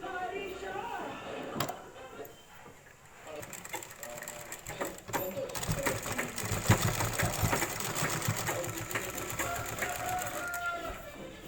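An electric sewing machine runs steadily while stitching a pleated cotton petticoat, a continuous whirring rattle that builds after a few quieter seconds, with a voice talking over it at times.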